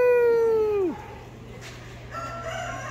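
A rooster crows at the Sevier County Fair in Sevierville, Tennessee, on an evening visit: one loud, close, drawn-out call that falls away after about a second, followed by quieter barnyard background.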